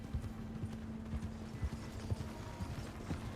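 Hooves clip-clopping steadily from a horse in the fantasy video game Pathfinder: Wrath of the Righteous, a soft irregular trot of thuds over a low constant hum, faint and alone.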